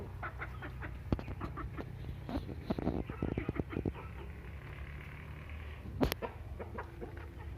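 Chickens clucking and calling in a family farm chicken coop, a mix of scattered close clucks and squawks over a low steady background hum, with one louder burst near the end.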